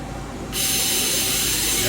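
The spindle of a 2022 SMART SV-2 machine tool with a 4th axis spins up to 5,000 RPM. A quiet mechanical background gives way after half a second to a loud, steady, broad airy whine that holds to the end.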